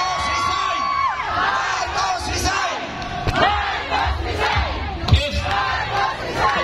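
A loud crowd shouting and cheering together at an 80th birthday celebration, with overlapping voices and whoops rising and falling continuously.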